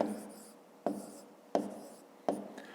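Pen strokes on paper as multiplication numbers are written out, four distinct scratchy bursts each starting sharply and fading, close and quiet.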